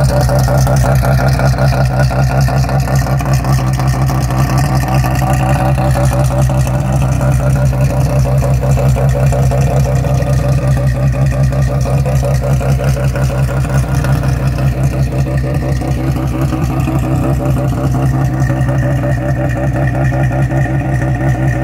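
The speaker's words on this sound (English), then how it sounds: "Just started the car." A car engine idles steadily just after being started, a continuous low rumble that stays close and loud throughout with no talk over it.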